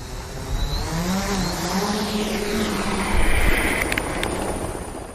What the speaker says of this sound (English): this small helicopter, that we were able to deploy and take our cameras just 20, 30 meters above the ground